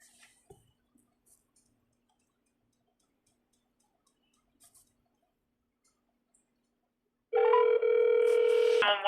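After an emergency call is disconnected, a steady electronic telephone tone sounds loud and alone near the end, following mostly silence with a few faint clicks.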